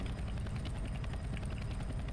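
A helicopter in a co-op map of a video game gives a steady, loud rotor thrum with dense low rumble and fast chopping pulses, holding constant throughout.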